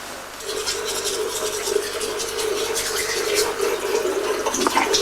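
Someone brushing their teeth with a toothbrush: a steady, close scrubbing rasp that runs continuously, with faint background noise and no speech.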